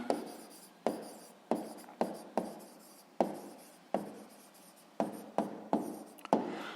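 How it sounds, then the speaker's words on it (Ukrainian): A pen writing out the answer to a math exercise on paper, a series of short scratchy strokes in irregular rhythm, close and clear with no talk. "записуємо тоді відповідь"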